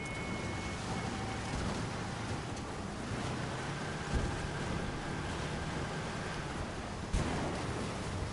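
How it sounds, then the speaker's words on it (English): Amphibious duck boat in Battlefield V cruising across water, a steady broadband rush of water and wind with faint engine tones, plus a couple of brief bumps or splashes near the middle and end. "When your car is on the water, you can have duck boat anytime."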